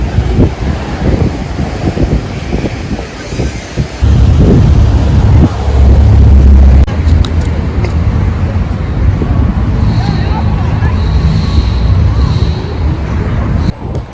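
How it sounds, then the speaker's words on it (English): Heavy wind buffeting a microphone outside a cafe in loud, low rumbling gusts, with a voice speaking briefly early on under the roar. "it's so fucking windy"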